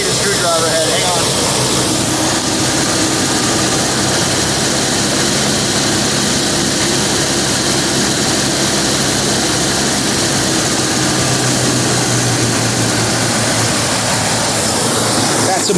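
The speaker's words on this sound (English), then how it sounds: "That's a more suitable fast idle" A 1971 Mercury Comet V8 engine held at fast idle, a steady continuous rumble with a loud, constant drone throughout, no talk over it.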